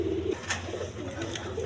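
Orange chila pigeons coo in soft, low rolling phrases, close by, with a faint background hum and a couple of brief rustles.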